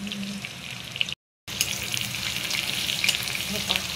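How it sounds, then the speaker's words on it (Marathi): Garlic frying in a pan gives a close, steady sizzle with light stirring clatter, broken by a brief silent gap. "हे बघा आपण टाकून घेतलं लसूण"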